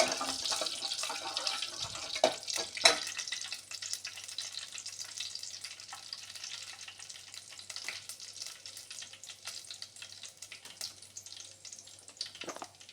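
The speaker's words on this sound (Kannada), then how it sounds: "ಇದಿಷ್ಟು ಫ್ರೈ ಮಾಡ್ಕೋತೇನೆ ಈಗ" Onion, potato and half a tomato frying together in a pan, a continuous crackling sizzle heard close and steady throughout, with a few faint knocks of a spoon early on and no speech.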